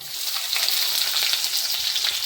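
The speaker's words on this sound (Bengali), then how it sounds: "দিয়ে দিচ্ছি কুচিয়ে রাখা পেঁয়াজ কুচিগুলো" Chopped onions frying in a pan for chickpea ghugni, a bright steady sizzle with light crackling, close and continuous, no one speaking.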